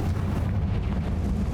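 The Confringo blasting spell explodes in Hogwarts Legacy, heard as a heavy, deep rumbling boom that stays loud and steady through the short moment.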